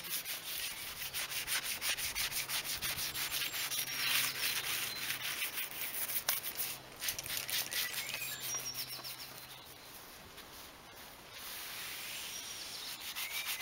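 Sanding a custom painted front lip on a Toyota Celica with 800-grit sandpaper: steady, close scratchy rubbing strokes continue throughout, briefly easing near the end, with faint bird chirps in the background.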